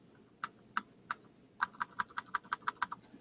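Computer keyboard keys are pressed to select Japanese text on screen. A few spaced clicks come first, then a quick, even run of about a dozen crisp taps, close and fairly quiet, with no talking.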